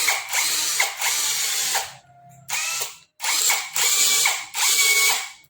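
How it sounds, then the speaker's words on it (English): A Nanwei cordless drill bores into concrete in loud, close bursts of grinding whine, stopping briefly between runs and restarting several times. "let's try to drill through this concrete using the bit that they provided us"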